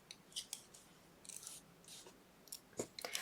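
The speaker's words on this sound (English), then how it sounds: "cut this yarn, and pull it through" Scissors snipping yarn close up, several quiet, quick blade closes and rustles over about three seconds in a hushed room.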